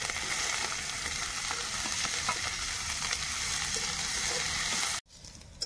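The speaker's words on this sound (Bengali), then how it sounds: "পেঁয়াজ সুন্দর লাল লাল ভাজা হয়ে গেছে" Chopped onions fry in oil with dry red chilies, whole cumin and bay leaf for a chicken curry, a steady close sizzle with faint stirring scrapes, cut off abruptly near the end.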